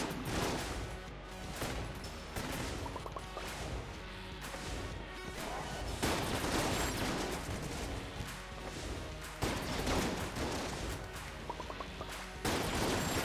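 Rapid bursts of gunfire in the twin-stick dungeon game Enter the Gungeon, snapping and crashing in dense clusters under busy game music, fairly quiet overall.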